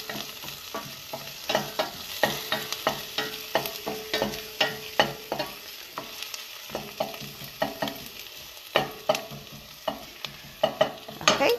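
Shallots sizzle and brown in a hot pan on a fast stove, a steady crackling hiss broken by frequent sharp scrapes and clicks of stirring, close and moderately loud with no talking.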